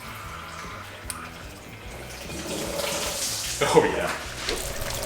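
Coolant drains out of the radiator of a 2004 Subaru Forester XT, a trickling, splashing flow that grows fuller and louder partway through, with a short spoken remark heard over it.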